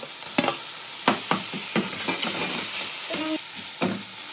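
Onions sizzle in a hot pan while a utensil scrapes and taps repeatedly, stirring at an uneven rhythm.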